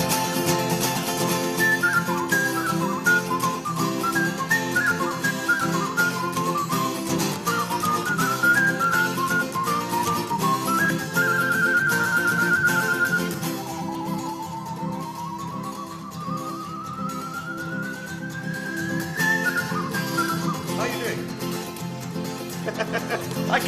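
Melodic whistling carries a tune over a full musical backing, with long sustained notes and a rising glide near the end.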